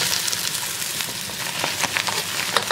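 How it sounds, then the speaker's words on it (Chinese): Cleaned eel pieces fry in a pan of rapeseed oil for dry-pot spicy eel, giving a steady close sizzle with scattered sharp crackles and pops, with no talking. "处理干净的鳝鱼我们下锅煎。"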